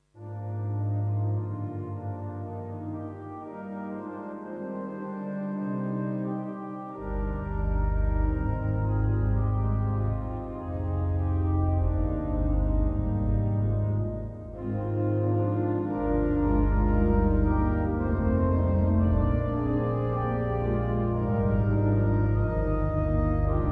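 A Johannus LiVE 2P digital organ plays sustained chords and a moving bass line, set to a mid-church reverb position, full and rich with a soft halo of room echo and a short pause midway.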